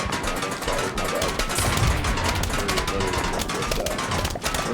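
Dense, constant bursts of explosions and crackling impacts from the plant-versus-zombie game PvZ Fusion, layered and loud without a break, with no voices over them.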